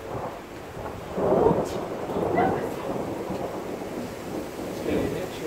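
Thunder rumbles and crackles close by during a lightning storm, several rolling low bursts over a background of wind and rain.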